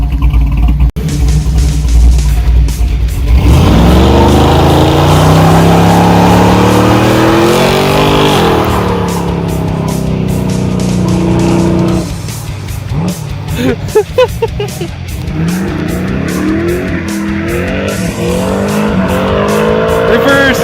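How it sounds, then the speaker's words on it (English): A 1965 Chevy muscle truck does a reverse burnout, engine roaring and revving loudly with squealing, skidding tires over a sustained run, while people talk and shout nearby. "Heck, a reverse burnout."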